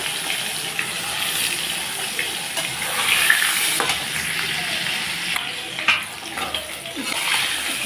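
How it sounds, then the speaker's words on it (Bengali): Snakehead fish fry in mustard oil in a kadai, giving a steady, dense sizzle and crackle up close with small bursts of spatter. There is no talk. "তেলের উপরে দিয়ে দিলাম মাছ।"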